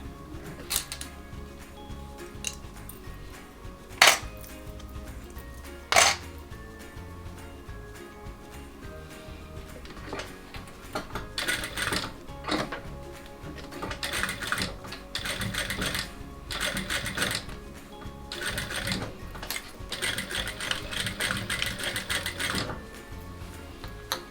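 A sewing machine runs stitches along the length of a classic fabric tote bag, a rapid mechanical whirring and clatter in bursts of varying length, with a couple of sharp clunks early on, close and moderately loud.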